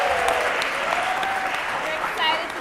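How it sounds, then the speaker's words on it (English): Audience at a student arts showcase applauding, a dense, continuous clatter of many hands clapping in a hall, steady and fairly loud for the whole stretch. "Let's give a round of applause for that."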